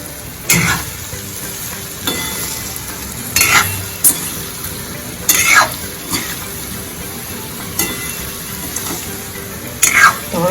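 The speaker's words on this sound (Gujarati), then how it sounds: "હવે તેને ચમચાના મદદથી હલાવી લઈશું." A spoon stirs patra in a pan with the flame off, repeated scraping strokes at irregular intervals over a soft background sizzle.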